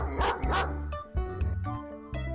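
A dog barks in a phonics song for children, with several sharp woofs and yips over a steady musical backing.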